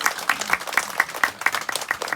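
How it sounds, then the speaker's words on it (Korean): Applause from a gathered crowd after a memorial performance at an outdoor workers' remembrance ceremony, heard as a steady, moderately close run of claps with individual hand strikes standing out in a regular rhythm. "우리 함께 추모 공연해주신 종합예술단 봄날에게 다시 한번 뜨거운 박수 부탁드리겠습니다"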